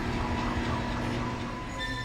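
Tram car rolling on rails inside the Dead Space video game, a steady, loud rumbling and clattering drone with faint high squealing tones, continuous throughout without speech.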